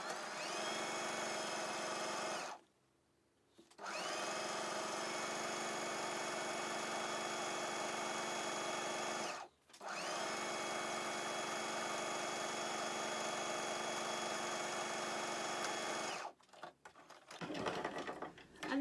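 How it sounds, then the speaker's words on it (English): Sewing machine stitching strips of jelly roll fabric together for a book cover, a steady fast mechanical whir in three long runs separated by short pauses, close and alone, ending with a few brief bursts. "make sure as I sew it stays where I want it to be"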